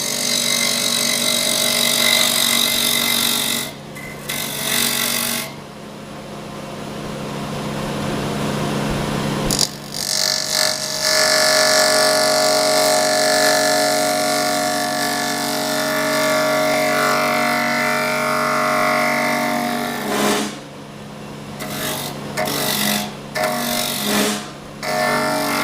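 Power carving tool grinding wood off a winged box, a loud continuous close buzzing whine lasting the whole stretch with brief dips and changes in pitch as pressure shifts.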